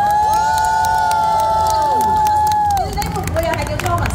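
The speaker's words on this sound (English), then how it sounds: "Give me some applause" A convention panel audience at ACGHK 2024 cheers loudly, with a long high whoop and shouting over a busy crowd and light clapping, close and energetic throughout.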